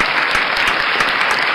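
Loud, dense applause from a studio audience for the host's wife on their 30th anniversary, continuous and close with no voices over it.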